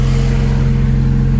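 A Honda Civic EK hatch engine idles steadily at close range, a continuous low, even hum with no talk over it.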